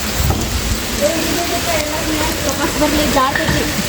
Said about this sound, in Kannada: ಹೊಡ್ಯಾಕತ್ರಪ್ಪ ಮಳೆ.